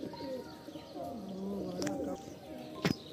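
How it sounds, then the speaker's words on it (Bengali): Several soft, rounded coos from a pigeon kept for display, repeating in a gentle rising and falling rhythm close by, with a sharp brief rustle or flap near the end. "এই হচ্ছে পায়রাটা যেটা বাজি করছিল।"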